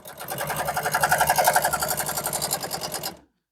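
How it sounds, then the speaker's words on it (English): A sewing machine stitches SUV bench seat upholstery in one rapid, even run of needle strokes lasting about three seconds, close and steady, before stopping abruptly. "So we're going to sew them up and cut them out."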